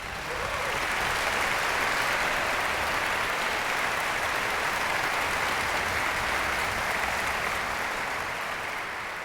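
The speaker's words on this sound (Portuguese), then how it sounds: "maestro Laércio Diniz, para quem peço uma salva de palmas." Sustained audience applause at a Cultura FM anniversary concert honouring a concertmaster and conductor, a steady dense wash of clapping lasting about nine seconds with no voices over it.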